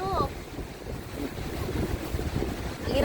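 Strong wind roars steadily across the microphone beside the sea, a dense continuous rumble with faint voices partly buried beneath it.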